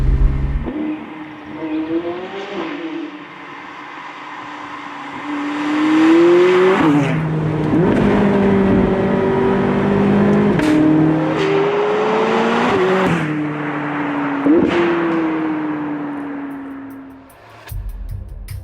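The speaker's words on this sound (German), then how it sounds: "ich hoffe, ihr könnt ein bisschen was mithören, wie dieser McLaren 675 LT Spider klingt" A 2016 McLaren 675LT Spider engine, driven with the roof open, revs and surges up and down through gear changes, a loud, raw exhaust note with wind noise, close and uninterrupted by talk.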